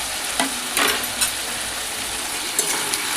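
A spatula stirs fried potatoes and green chillies in hot oil in a pan, giving a steady sizzle with a few sharp scraping strokes, close and alone.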